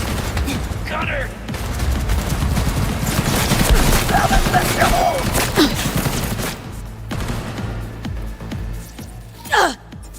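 Dense, continuous gunfire fills a Cyberpunk 2077 firefight, a sustained barrage of overlapping shots with a few grunts and gasps from characters, ending with a sharp final burst.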